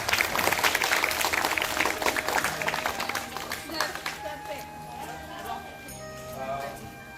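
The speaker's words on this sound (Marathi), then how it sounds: "तर सर्वांनी टाळ्या वाजवून त्यांचं स्वागत करा" An audience at an NSS camp gathering claps in a dense burst of applause that fades over several seconds, with voices talking over it as it dies down.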